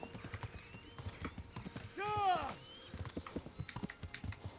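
Arab stallion's hooves clip-clopping steadily in the Kingdom Come Deliverance game, with a brief horse whinny partway through and a voice talking over the rhythmic steps.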